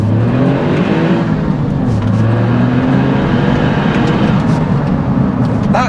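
A remapped Smart 451 Brabus small turbocharged engine pulling hard under acceleration, a loud continuous drone whose pitch climbs steadily from inside the car, with no talk over it.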